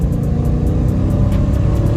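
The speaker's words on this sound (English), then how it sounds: "this is how the stock exhaust sound. It's quiet as hell" A Dodge Charger Scat Pack on its stock exhaust idles and revs with a steady, muted low rumble, close and fairly loud, with no talking.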